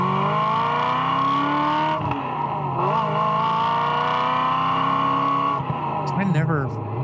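A Ferrari 348 engine revs loudly in a smooth, V8-like drone with rising and falling pitch across several pulls, ending in a brief dip and a raspy blip, with no talk over it.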